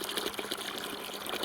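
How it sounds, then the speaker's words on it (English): Water trickling slowly from a small hole in a filled bucket, used to water young apple trees in a woodland grove; a steady, soft, close splashing flow heard alone. "I'm filling up each hole, each bucket. So it's got a small hole coming out real slow."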